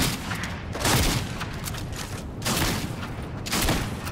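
Repeated bursts of video game gunfire in a battle royale match with a new game mode, loud and dense with swells of fire and booms, and no talk over them.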